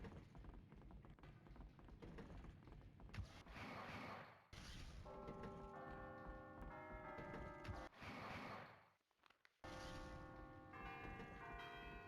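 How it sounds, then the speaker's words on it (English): Bells ringing in the Harry Potter 5 video game on PSP, with several resonant chimes sounding in bursts, broken by brief pauses, over mechanical clanks and ambient game sound. "We're gonna ring the bells."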